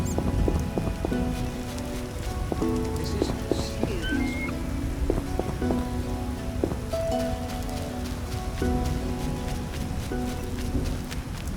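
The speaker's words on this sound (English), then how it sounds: "What a downpour." Heavy rain pours down in a constant dense hiss in the video game The Witcher Enhanced Edition, with a steady musical tone playing underneath throughout.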